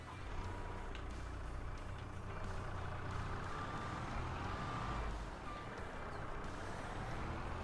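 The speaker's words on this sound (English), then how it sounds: "Let's grab the" A skid steer in Farming Simulator 22 rumbles steadily at close range, its low engine drone continuous throughout while repeated high reversing beeps pulse over it at an even rhythm.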